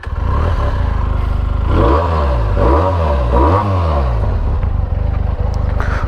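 A high-cc superbike starts up and revs in a public place, a loud engine idle broken by three rising and falling throttle blips in the middle before settling back to a rumbling idle.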